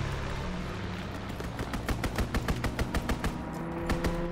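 Machine-gun fire from a strafing run in the World War II shooter Call of Duty WW2, a rapid burst of about a dozen evenly spaced shots cutting through background battle noise.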